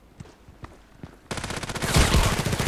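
Gunfire in the first-person shooter Contract Wars, where an IZH-43 shotgun is in use: a few faint, scattered shots give way to a loud, rapid, dense volley that builds and keeps going to the end.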